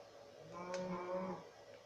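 A Minecraft cow gives one drawn-out low moo, moderately loud, over faint background hiss in a survival game.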